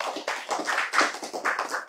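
An audience clapping hands at a religious talk, a short burst of brisk, fairly close claps in a quick uneven rhythm lasting about two seconds.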